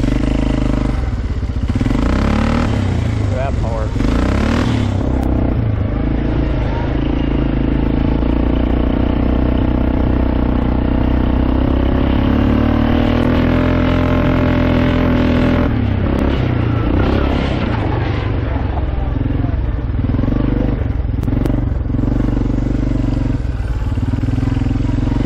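A cheap ATV that would not start, now running after a carburetor fix, revs and rumbles loudly and close on a test drive, its engine rising and falling continuously throughout with no talk.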